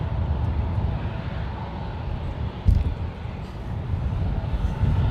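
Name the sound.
United airliner taking off from runway 28 left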